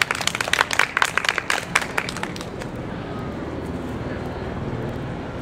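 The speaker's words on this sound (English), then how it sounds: "Let's start them off with a round of applause." Audience at a live comedy show breaks into a round of applause, dense clapping that swells for about two seconds, then thins and fades out into low room noise.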